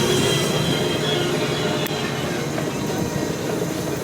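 The Casey Jr. ride train at Disneyland Paris gives a loud, steady rumble of wheels on track with rattling carriages and a brief squeal, heard up close from aboard and continuous throughout.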